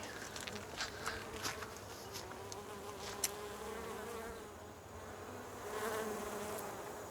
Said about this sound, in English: I'm really interested to see the bees here that made that delicious honey